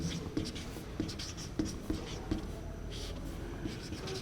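Chalk or marker taps and scratches across a board during a physics lesson, with a regular series of short strokes over a quiet room background.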